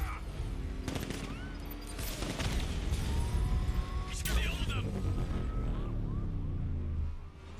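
Enemy vehicles open fire in Batman: Arkham Knight, a dense, sustained barrage of game gunfire layered with engine roar and crashes, heard under continuous talk.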